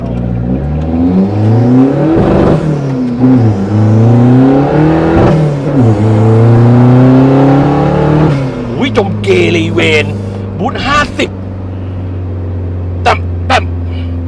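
A modified turbocharged car used for delivering parts revs hard, its engine pitch sweeping up and down in repeated loud bursts, then settles to a steady idle punctuated by sharp pops and chirps.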